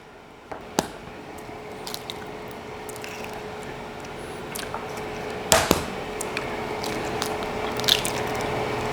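Two eggs cracked and dropped into a bowl of shredded hash brown mix, sharp close cracks followed by soft wet squishes and drips over a steady background hum.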